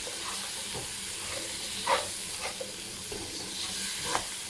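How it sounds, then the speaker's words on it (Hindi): Masala with peas and black pepper fries in oil in a pot for matar pulao, a quiet steady sizzle with a few soft stirring scrapes, heard alone. "मसाला फ्राई हो गया और ये देखिए आप ऑयल भी ऊपर आ गया।"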